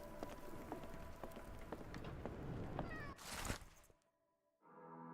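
A cat meows in the Sherlock Holmes: The Awakened video game, several short close mews over a patter of rain, then a longer drawn-out cry before a pause and a soft musical tone.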